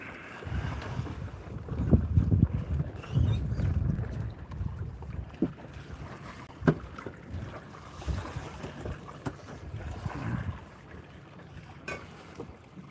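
Light following wind on a sailboat moving slowly across Penobscot Bay, Maine, a steady low rumble of wind and water against the hull with occasional knocks, close and continuous without talk.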